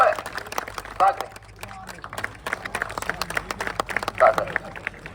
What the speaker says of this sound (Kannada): ಶಬಾಷ್ ಜೋರಾಗಿ ಚಪ್ಪಾಳೆ ಸಾಕ್ರಿ